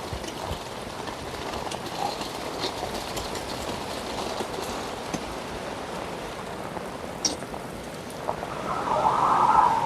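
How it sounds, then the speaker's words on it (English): Steady rain pattering on a surface throughout, with scattered louder drops and a slight swell toward the end; no voices. "It's raining pretty good."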